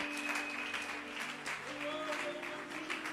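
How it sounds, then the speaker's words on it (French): Applause and acclaim from a church congregation at a Sunday service, a steady wash of clapping mixed with voices and music, filling the room at moderate level throughout. "Que quelqu'un acclame Jésus de Nazareth."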